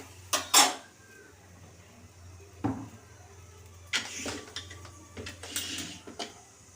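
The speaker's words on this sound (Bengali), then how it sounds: "গ্যাসে কড়াইটা বসিয়ে দিলাম।" A karai wok is set down on a gas stove: a few separate metallic clanks and knocks, quiet between them, with faint rattles afterward and no speech.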